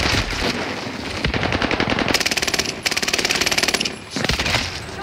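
Rapid automatic bursts from the M-13 rifle in Call of Duty multiplayer, loud and close, firing in long sustained strings with brief pauses between volleys.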